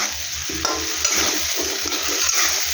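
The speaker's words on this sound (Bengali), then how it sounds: "এটাকে ভালো করে অনেকক্ষণ ধরে নাড়তে হবে, যাতে মশলাগুলোর সাথে আলুগুলো একসঙ্গে সব মিশে যায়।" Potatoes with spices for motorshuti alur dum are stirred vigorously in a hot pan, quick repeated scraping strokes and soft knocks over a loud, close sizzle, with no talking.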